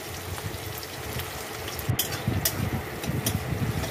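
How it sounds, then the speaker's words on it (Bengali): Chopped onion dropped into hot oil with chili, bay leaf and panch phoron, giving a steady close sizzle and crackle with a few sharp pops, no voices. "তো পেঁয়াজ দিলাম"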